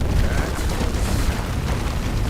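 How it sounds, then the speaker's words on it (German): Corpse explosion in the action role-playing video game Diablo IV: a dense, sustained booming roar with heavy low-end rumble and crackling debris, loud and continuous for a couple of seconds with no voices. "Leichenexplosion, bumm, sehr schön."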